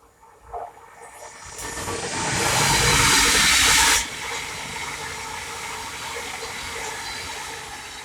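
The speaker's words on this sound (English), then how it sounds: "the next route to pathway is the Thameslink 700 going from London King's Cross to Cambridge" A Thameslink Class 700 train on a King's Cross to Cambridge service passes at Welham Green on the East Coast Main Line, a hissing rush swelling to a loud roar, then cutting off sharply into a lower lingering rumble.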